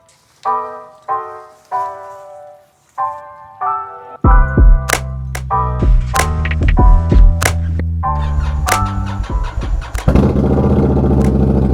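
A motorcycle engine cranks and catches after a few seconds, then settles into a loud, steady running rumble with uneven throttle blips, heard close before a hill country cruise, with no talking.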